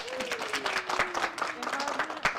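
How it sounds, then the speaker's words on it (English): Applause from the audience at a Navajo Nation pageant, where a contestant's helper is being introduced, comes as a crowd of steady, fairly close hand claps under a voice that talks through it. "Let's give her a round of applause."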